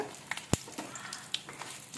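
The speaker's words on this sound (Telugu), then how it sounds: "జీలకర్ర ఒక స్పూను ఆవాలు ఒక స్పూను వేసుకుని కలేమాకు ఎండుమిర్చి వేసి తాలింపు వేసుకోవాలి" Cumin, mustard seeds, curry leaves and dried chillies fry in hot oil for a tempering on ginger-mango pickle, a faint sizzle dotted with small crackles and one sharp pop.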